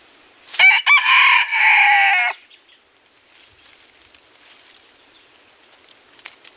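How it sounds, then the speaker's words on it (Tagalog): A red junglefowl rooster, an old wild bird, crows once loud and close, a clear drawn-out call of about two seconds, followed by faint outdoor quiet. "pero ang ganda ng tilaok na to"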